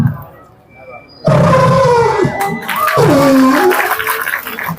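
A performer on a mimicry stage imitates an elephant trumpeting with his voice, a loud, sustained brassy call with wavering pitch that bursts in abruptly after a quiet moment and holds strongly to the end.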